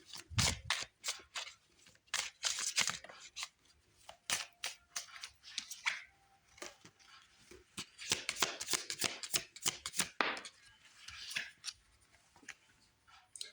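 Moon oracle cards shuffled by hand during a tarot-style love reading, a close run of crisp, irregular riffling snaps and flicks that comes in bursts with short pauses, no one talking.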